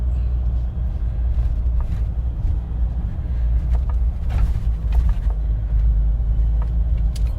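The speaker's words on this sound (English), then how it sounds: "Let's go over here and run over some bumps so we can test it out." A 2021 Jeep Wrangler Turbo Diesel rolls over bumps, a deep steady engine and road rumble inside the cabin with occasional thuds and rattles as the suspension takes each bump.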